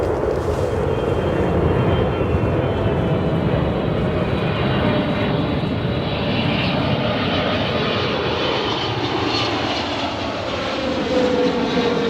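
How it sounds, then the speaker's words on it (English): A China Southern Cargo Boeing 777 arrives at O'Hare, its engines a loud, steady roar that holds for the whole stretch, with the whine slowly shifting and no voices over it. "our next arrival, China Southern Cargo, Boeing 777, heavy of the afternoon"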